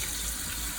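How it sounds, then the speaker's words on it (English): Tap water runs steadily into a big cooking pot being filled to cover potatoes, a close, continuous hiss and splash with no talking. "I put them in a big pot of water, and I put enough water in the pot to completely cover the potatoes."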